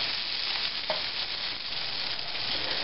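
Pollock fillets fry in oil in a pan, giving a steady, even sizzle close by that carries on without any talk.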